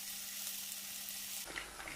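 Marinated fish pieces sizzle steadily in hot oil on a medium-low flame for a restaurant-style fried fish, a dense continuous crackle with no voices.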